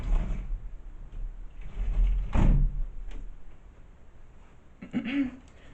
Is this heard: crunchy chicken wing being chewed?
no